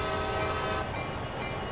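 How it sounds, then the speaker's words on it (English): A locomotive horn in the Train Sim World video game sounds as a long, steady multi-tone blast at a crossing, sustained throughout and then easing slightly, heard alone without talk. "I'm going to go ahead and sound the horn for that."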